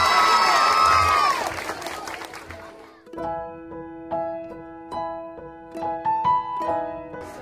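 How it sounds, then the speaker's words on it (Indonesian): A crowd of children on an island cheers, shrieks and claps loudly for about three seconds, then the noise drops away and brighter, steadier sounds follow. "Tepuk tangan dulu dong."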